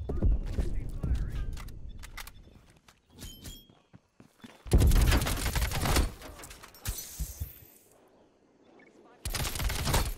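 Bursts of heavy gunfire from Call of Duty Black Ops Cold War multiplayer, loud broken volleys separated by quieter stretches of game sounds and footsteps, with a player's voice talking at points.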